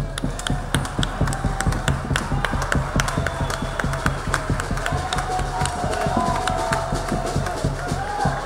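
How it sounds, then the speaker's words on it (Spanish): Audience at a memorial recital in Jujuy claps steadily throughout, dense overlapping hand claps with some crowd murmur, continuous and fairly loud. "quisiera que lo homenajemos a los compañeros y compañeras con un fuerte aplauso"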